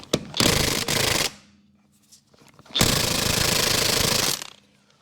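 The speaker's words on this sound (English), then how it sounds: "Craftsman brushless RP 20 volt." Craftsman brushless 20-volt impact tool used on the front end of a 1978 Silver Anniversary Corvette, firing in two loud rattling hammering bursts of about one and one and a half seconds, separated by a quiet pause.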